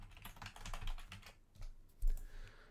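Someone types a class number on a computer keyboard, a quick close run of light key clicks, pausing briefly, then a few louder taps.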